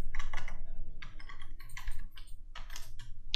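Rapid bursts of computer keyboard typing while entering text in Photoshop, close and clear with short pauses between clusters of keystrokes and no talking.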